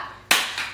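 A single sharp hand clap in a dance routine lands after a quiet moment, ringing briefly in the room, followed by a softer second clap.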